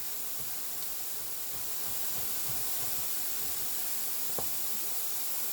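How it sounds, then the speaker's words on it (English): Mushrooms sizzle in a hot pan, a steady close hiss that runs throughout with no talking, broken once by a faint tap. "Mushrooms are cooking."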